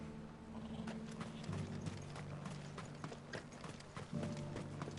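Horse hooves clip-clop in a steady walking rhythm in Final Fantasy 16, moderately close over a low ambient hum, with faint mechanical clicks mixed in.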